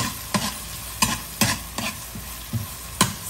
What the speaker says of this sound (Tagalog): Igigisa natin yung corned beef natin.